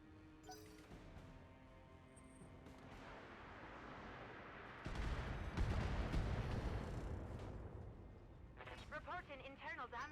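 Missile volley slamming into a mech in BattleTech, a burst of heavy rumbling impacts and crashes swelling midway, followed by a voice talking over the fading din.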